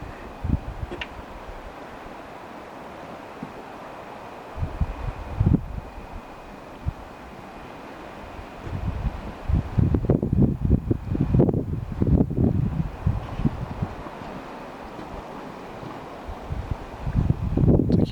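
Monarch Geyser in Yellowstone National Park bubbles and gurgles in irregular bursts, a churning, splashing sound that builds midway and returns near the end, over steady outdoor wind noise with no talking.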